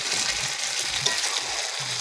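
Eggs sizzle and fry steadily in a hot pan while being cooked down into an egg kosha, a continuous close crackling hiss with a few stirring scrapes and no talking.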